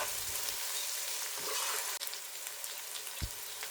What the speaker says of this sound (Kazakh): етін жауып қуырып аламыз